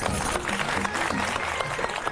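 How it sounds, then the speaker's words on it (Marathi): A studio audience at a Marathi television game show breaks into clapping, a brief burst of applause heard at moderate distance with a faint voice mixed in. "आर्यसाठी एकदा टाळ्या वाजवा"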